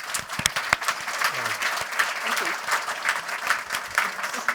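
An audience at a maths summit panel session gives a round of applause for Kathy, moderately loud, uneven clapping with some sharp individual claps, lasting several seconds under light murmuring.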